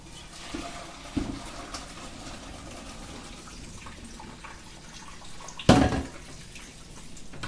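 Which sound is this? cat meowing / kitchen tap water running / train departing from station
kitchen tap water running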